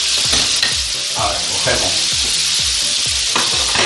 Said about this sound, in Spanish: Bueno, pues vamos a ir sofriendo. Todo esto, friendo.